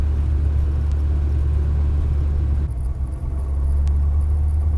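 A Volkswagen Voyage with an AP 1.8 engine accelerates with three people aboard, a loud, steady low engine drone heard from inside the cabin with a brief dip midway, as at a gear change, and no talking.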